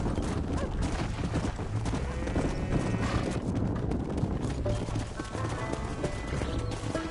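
Horse hooves clip-clopping steadily with an occasional whinny in the Western video game Red Dead Redemption, set against a busy ambient game soundscape, moderately loud with no speech.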